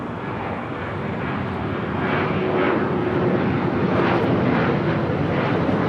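A jet airplane taking off at Los Angeles International Airport, its engine roar loud and steady throughout, building slightly in strength as it powers down the runway.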